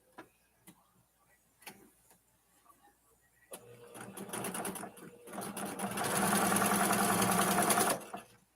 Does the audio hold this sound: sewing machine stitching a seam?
yes